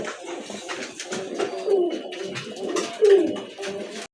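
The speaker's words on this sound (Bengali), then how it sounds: "কবুতর দেখতে পাচ্ছেন, এটা হচ্ছে আপনার রানিং কাগজি কবুতর" Running kagzi pigeons with crested heads and feathered feet coo repeatedly, their soft throaty calls rising and falling in close, overlapping phrases over several seconds.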